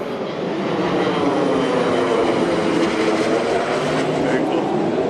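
An airplane passing overhead outdoors, a steady loud broadband engine roar that holds for about five seconds without fading.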